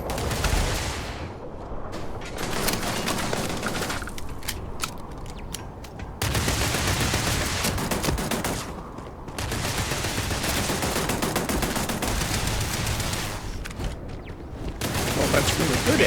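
Dense, sustained gunfire from a shooter video game, with bursts of automatic fire and heavy volleys filling most of the span, loud and close, with brief lulls between barrages and a voice talking over it.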